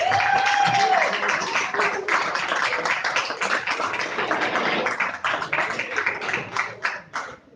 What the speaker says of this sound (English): Can we have a round of applause for the beautiful singing of Anne-Sophie?